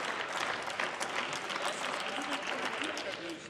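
Applause fills a German parliamentary chamber during a Bundestag budget debate on the economy and energy ministry, dense steady clapping throughout with faint voices underneath.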